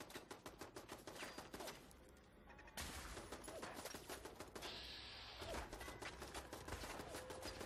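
Automated turret in Fallout 4 firing rapid, steady gunfire, faint and continuous with dense repeated shots and brief shifts in intensity.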